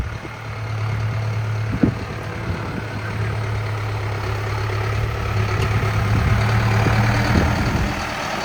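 A new Massey Ferguson 5711 tractor engine runs at a steady idle close by, a low droning hum with a few clanks and knocks, rising slightly toward the end.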